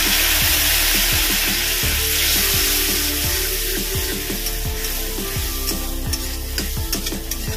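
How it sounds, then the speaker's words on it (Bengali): Cumin and coriander powder paste frying with a little water in a pan, sizzling loudly and steadily while a utensil scrapes and stirs in regular strokes, close up with no talking. "যতক্ষণ না কাঁচা গন্ধ যায় ততক্ষণ পর্যন্ত একটু কষিয়ে নেব"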